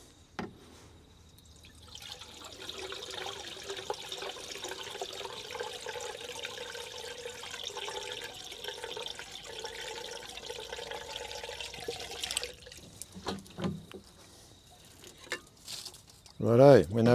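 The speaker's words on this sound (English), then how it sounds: "put some water in the header tank for the radiator" Water poured through a leaky funnel into the radiator header tank of an old dump truck that sat for years, a continuous trickling splash for about ten seconds, followed by quieter handling noises and a voice at the end.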